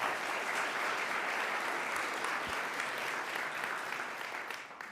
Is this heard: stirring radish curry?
no